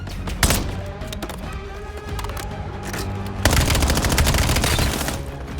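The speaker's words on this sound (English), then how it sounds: "Incoming fire." Incoming gunfire in the video game Black Ops 7, dense sustained bursts of automatic fire with heavy booms, loud and continuous, growing harsher toward the end, without speech.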